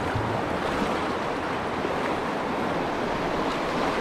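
Broad, steady rushing of river rapids, a continuous wash of water heard outdoors with a little wind noise, loud and unbroken throughout with no voices.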